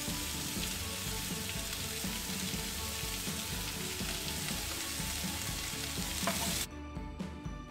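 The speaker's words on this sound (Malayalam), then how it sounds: "നമ്മുടെ വെളുത്തുള്ളി ഇഞ്ചിയൊക്കെ നല്ല ബ്രൗൺ കളർ ആയതിനു ശേഷമാണ് നമ്മൾ സവാള ഇട്ട് കൊടുക്കുന്നത്" Onion frying in a pan with browned garlic and ginger, a dense continuous sizzle with stirring scrapes, cutting off abruptly near the end.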